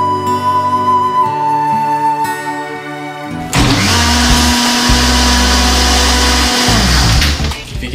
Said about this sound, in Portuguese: registrado que o nosso liquidificador ainda funciona